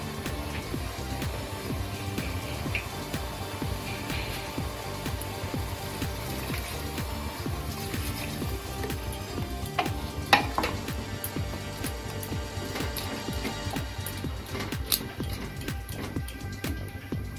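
Bottle gourd curry in a pan on the stove, a steady low sizzle and bubbling with a few scraping stirs and clinks, close and fairly quiet throughout.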